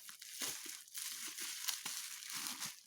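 Taped packaging is cut and pulled open up close, with crinkling, tearing and scraping in uneven bursts.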